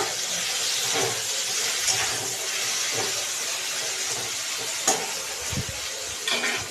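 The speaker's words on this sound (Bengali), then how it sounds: "এখন আমি দিয়ে দিব ভেন্ডিগুলো, ভেজে রাখা ভেন্ডিগুলো। তো নাড়াচাড়া করে নেব।" Fried okra tossed in a pan with mustard sauce gives a steady loud sizzle and hiss, broken by occasional scrapes and knocks of a spatula stirring close by.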